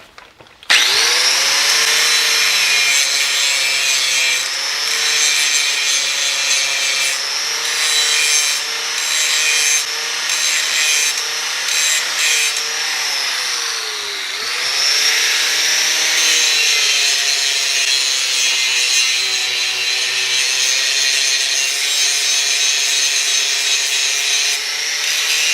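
A planer cuts a bevel along a straight edge, producing a loud, continuous grinding whine that rises and dips slightly with each stroke for about twenty-five seconds.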